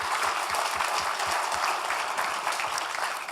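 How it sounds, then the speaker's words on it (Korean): Steady, dense applause from an audience at a 2014 Korean political debate forum held by a National Assembly member, a few seconds of continuous clapping with no voices. "박수 한번 부탁합니다."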